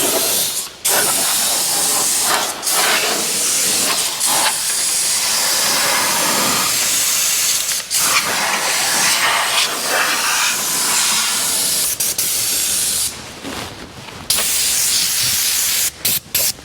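A rustproofing spray wand coats the underside of a 2024 Ford Maverick with a loud, close, continuous hiss, broken by a few brief pauses and short bursts as the trigger is released and squeezed again; no voices.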